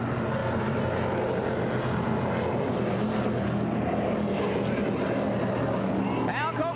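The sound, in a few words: helicopters flying alongside powerboat race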